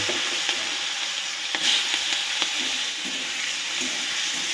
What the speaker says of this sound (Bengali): এবার আমি তেলের মধ্যে চিংড়ি মাছগুলো দিয়ে চিংড়ি মাছটাকে ভালো করে ভেজে নেব